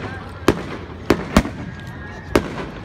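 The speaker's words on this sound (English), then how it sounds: "When it's the 4th of July, everywhere around the world it just looks like explosions were in the air." Fourth of July fireworks go off as four sharp, loud bangs at uneven intervals, with a person talking between the blasts.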